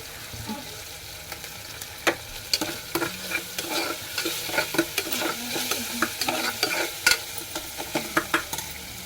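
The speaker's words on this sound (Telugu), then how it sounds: "పచ్చివాసన పోయే వరకు అల్లం వెల్లుల్లి పేస్ట్ని వేపాలండి" Ginger garlic paste fries in a pan for brinjal mutton curry. A steady, close sizzle is broken by frequent sharp scrapes and clacks of a spoon stirring the paste. No voices.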